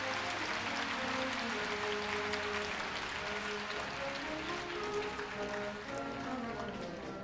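Crowd applause fills a hall at the Korea University 2018 freshman entrance ceremony as a badge is presented to the freshman representative: dense, steady clapping from a large audience, sustained throughout without pause.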